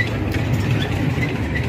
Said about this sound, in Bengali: আস্তে আস্তে দেখেন সুন্দর ট্রেন আছে